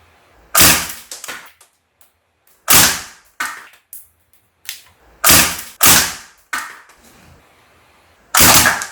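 Full-steel Northeast STEN MK2 gas blowback airsoft submachine gun fired full auto inside a room: loud, sharp cracking bursts of rapid shots, several separate strings broken by short silent pauses, with no voices.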